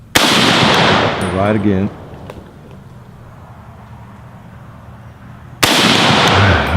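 Loud bursts of rapid gunfire from a powerful gun ring out at the start, fall quiet for several seconds, then resume loudly at the end, with a brief spoken remark heard early on.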